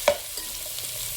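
Sliced onions fry with biryani masala and bay leaf in a pan for fish biryani, a soft steady sizzle with a brief stir-scrape near the start.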